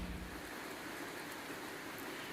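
Steady rain pours onto a sloped metal workshop roof, a dense, even hiss of drops drumming close overhead with no pauses.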